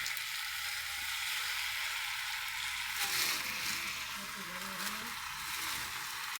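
Fried potatoes sizzling in a pan over a wood fire, a steady hissing crackle with a brief stirring scrape near the middle, with a voice talking lightly over it.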